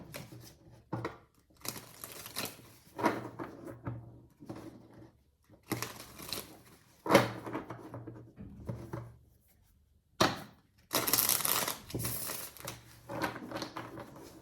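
A black tarot card deck being shuffled by hand, in irregular bursts of crisp riffling and slapping separated by short pauses, close and fairly loud with no talking during the shuffles.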